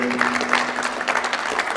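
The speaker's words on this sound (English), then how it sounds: "nice round of applause for Matt." A small group at a talk claps steadily for a couple of seconds, a brisk, even patter of applause with no voices standing out.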